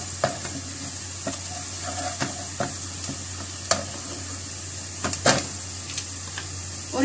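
Onions and cumin seeds sizzle steadily in a pan while a spoon stirs them, scraping and clinking against the metal every so often, close by with no voices.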